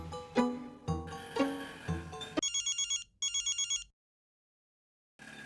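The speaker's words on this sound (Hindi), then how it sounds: "मैं अभी जेठा भरा को फोन करके पूछता हूँ।" A telephone ring in a Hindi sitcom household sounds as two loud, rapid warbling bursts after a few seconds of talk. Silence follows, then speech resumes near the end.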